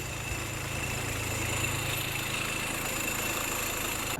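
A turbo diesel John Deere motorcycle engine idles with a steady, even mid-to-low rumble that holds unchanged at a modest level throughout, with no one talking.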